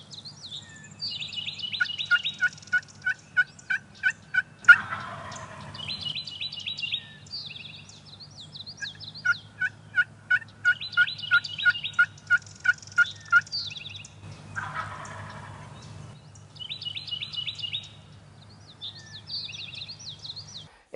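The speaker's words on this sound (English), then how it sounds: "he was double gobbling to our calls" Wild turkeys gobble in an Indiana woodland during a hunt, close calls answered in quick double gobbles, interspersed with rapid clucking and yelping bursts in regular rhythmic runs.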